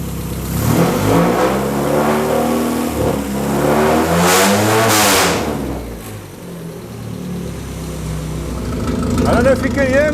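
After a radiator repair, a car engine revs up and falls back to a loud, rough idle, close by. A voice speaks over the engine.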